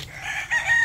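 A rooster crows loudly and close, a sustained bright call with a brief break midway, alone with no talk.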